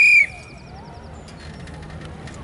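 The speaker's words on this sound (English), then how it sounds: "On my whistle" A single short, loud, high whistle blast given as a start signal, sounding alone for a fraction of a second before dropping to a quiet outdoor background with faint bird-like chirps.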